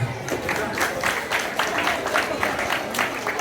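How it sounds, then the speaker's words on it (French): An audience at a school report-card ceremony applauds a parents' association president, with lively, uneven clapping from a moderate crowd and a few voices mixed in. "On applaudit encore, s'il vous plaît, le président de l'APE"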